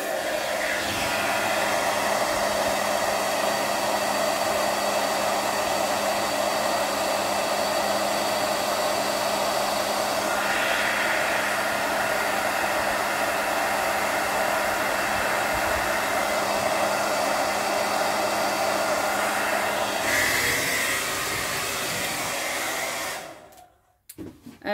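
A hair dryer blows steadily and loudly while drying a watercolour painting, its even whooshing hum shifting slightly in tone as it moves, then switching off with a few clicks at the end.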